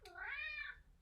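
A single drawn-out cat meow from a community cat that has climbed onto a chair indoors, close, clear and rising then falling in pitch, with no talking over it.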